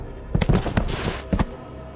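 A rapid cluster of sharp, loud gunshot-like cracks, several in quick succession, then a final pair of bangs before the sound dies away.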